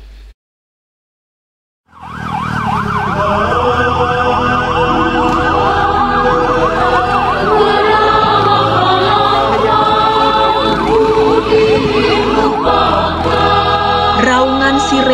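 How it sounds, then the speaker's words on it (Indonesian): An ambulance siren wails, rising and falling continuously, loud and close, with steady traffic rumble underneath; a brief thump precedes it after a moment of silence. "Raungan sirene mengejar waktu."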